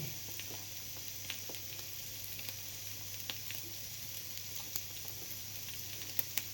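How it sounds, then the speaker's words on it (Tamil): An omelette made with coriander leaves, green chilli, chilli powder, salt and pepper sizzles steadily in a hot pan, a continuous close crackle and hiss with small pops and no talking. "சுட சுட ஆம்லெட் ஃப்ரை ரெடி"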